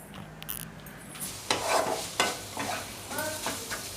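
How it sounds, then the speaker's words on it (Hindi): Paneer stir-fried in a pan for a satvik momo filling: a soft, steady sizzle with repeated scraping stirs, several sharper strokes around the middle, all close and moderately quiet. "अभी पनीर डाल के हमें सिर्फ 2 मिनट तक उसको सिर्फ चलाना है, ज़्यादा नहीं करना है।"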